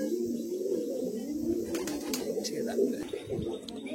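Madrasi high flying pigeons coo at a loft in Bagnan, Howrah: soft, repeated low cooing calls close by, with a few brief sharp sounds and light movement in the background.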